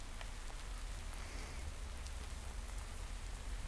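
Steady rain in the Minecraft video game, a soft, even wash of falling drops with low rumble underneath, continuous and fairly quiet with no voices.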